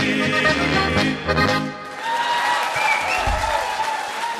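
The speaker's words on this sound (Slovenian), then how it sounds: "Aplavz!" Audience applause at a live Slovenian concert, a sustained clapping wash mixed with the tail of the band's music, dipping briefly near the middle before swelling again.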